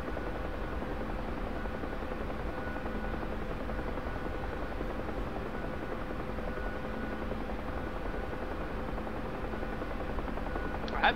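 A Huey helicopter in the DCS flight game drones steadily, its turbine and rotor hum holding level and moderate throughout, ending with a faint brief click.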